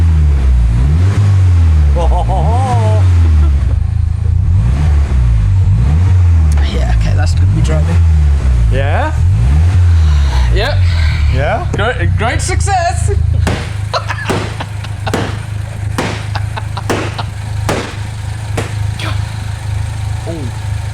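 A Mini's engine revs repeatedly up and down, with a blow-off valve on the car, then settles into a steady, droning idle; people talk over it throughout.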